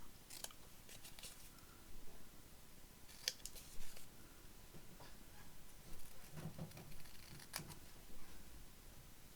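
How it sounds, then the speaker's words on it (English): Scissors snip the corners off a square paper tag in a quiet craft setting: a series of faint, crisp cuts at irregular intervals, close to the mic, with light paper rustling and no speech. "I'm just going to cut the corners off this because it's square, and I quite like them when they're cut off."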